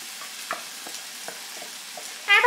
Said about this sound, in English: we're going to go ahead and add that onion paste that we made earlier. So just going to dump that right in there.